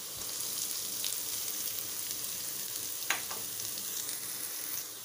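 Chopped ginger, garlic and sliced green chili sizzle and fry in a pan for Indian-style spicy pasta, a steady soft crackle with a brief clink or stir partway through and no talking.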